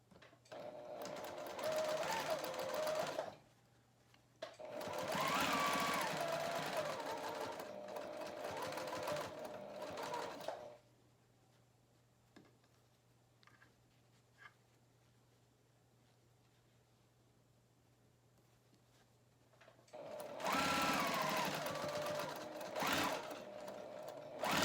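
A sewing machine stitches a fabric face mask in three loud bursts, the motor running steadily for several seconds at a time, with quiet pauses in between where only faint handling noise remains.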